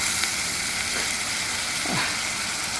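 Spices frying and being stirred in a pan for chicken curry, a dense continuous hiss of sizzling oil with a faint scrape of the spoon, close and even throughout, no voices.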